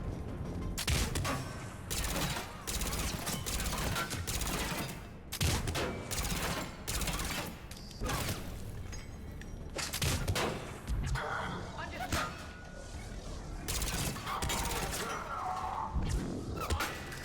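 Heavy gunfire in the video game Mass Effect 3 rattles through repeated bursts and shots, loud and dense throughout, with a person talking over parts of it.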